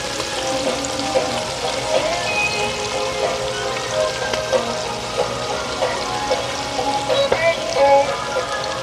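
Calamari frying in a pan, a close, busy sizzle with popping and crackling like rain on a surface, steady throughout with occasional louder spatters.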